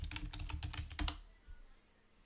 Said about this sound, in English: let's go and type here search tags